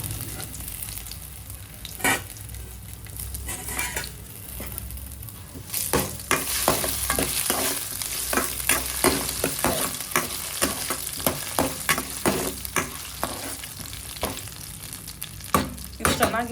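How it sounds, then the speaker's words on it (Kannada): Potatoes frying and being stirred in oil with cumin and mustard seeds: a steady close sizzle with repeated sharp spatula scrapes against the pan from about six seconds on, no voices. "ಆಲೂಗಡ್ಡೆ ಹಾಕಿ ಫ್ರೈ ಮಾಡ್ಕೊತೀನಿ."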